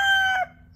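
A chicken calls with a loud, strained crowing or clucking note, close up, lasting about half a second before dropping off to quiet background.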